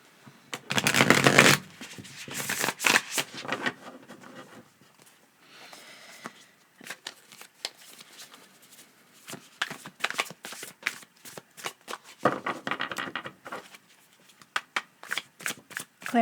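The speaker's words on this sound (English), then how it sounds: "So I'm going to get some tarot for clarification." Tarot cards being shuffled by hand in quick riffling bursts and soft patters, close and fairly quiet, with pauses between rounds and no talking.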